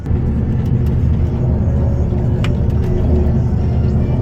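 A bus rumbles steadily on the road from a ferry dock toward Algeciras, its engine a loud, continuous low drone close by, with no pauses and no voices.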